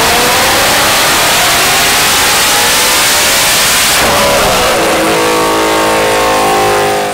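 A Whipple-supercharged car engine making 1,300 wheel horsepower revs up loudly, climbing in pitch with a rising whine, then holds at a high, roaring rev close by.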